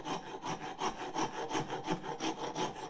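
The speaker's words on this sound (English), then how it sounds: "So I started rasping," A horseshoe rasp is worked over wood in steady, even strokes, about four per second, with each coarse scrape rising and falling close up and no voices.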